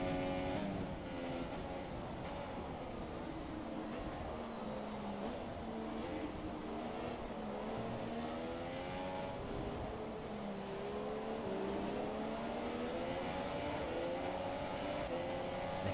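Formula 1 race cars in the F1 video game on PS4 during a China race, engines droning steadily and loud with shifting pitch as several cars battle closely, with no talk heard.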